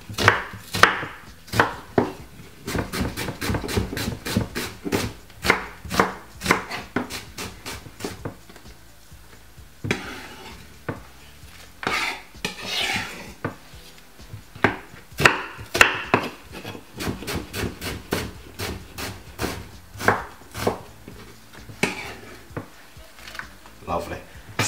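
A medium white onion is chopped on a board with a knife, giving quick runs of sharp, close taps that pause now and then before starting again.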